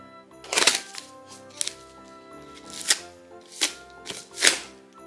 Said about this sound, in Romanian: ia uitați cum s-a rupt folia